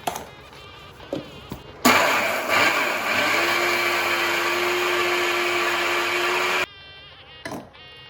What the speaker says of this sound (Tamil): அடுத்தபடியாக சர்க்கரையை அரைக்கணும். பாதி பாதியாக போட்டு அரைக்கலாம்.